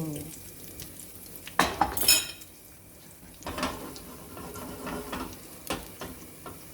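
Eggs for a herb omelette are stirred in a pan, giving a few close utensil scrapes and clinks against the metal over a soft background of frying.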